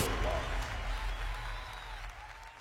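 An audience at a motivational business talk breaks into loud, dense clapping that fills the moment steadily, with a voice coming through over the applause.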